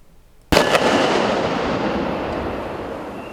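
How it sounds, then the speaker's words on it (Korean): A sudden loud blast goes off during a combined military and police counter-terror drill at Daegu World Cup Stadium, a sharp crack followed by a long rumbling roar that slowly fades, with no talking. "폭발 소리와 함께 뿌연 연기가 발생합니다."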